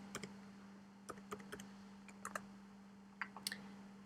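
Quiet keyboard keystrokes in an irregular pattern, single clicks and short bursts of typing while entering a number into a spreadsheet cell, with a steady electrical hum underneath.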